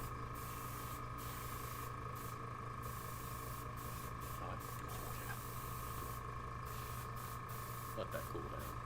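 An air compressor runs in a prop-making workshop, a steady hissing hum with a constant tonal whine, quiet and unbroken throughout.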